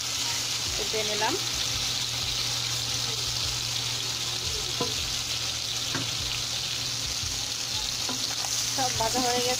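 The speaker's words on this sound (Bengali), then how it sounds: "এখন আমি চিংড়িগুলো অল্প করে ভেজে নেব" Prawns frying briefly in hot oil in a pan, with a loud, steady sizzle throughout, punctuated by occasional clinks and scrapes of stirring close by.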